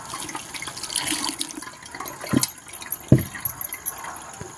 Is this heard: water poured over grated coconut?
yes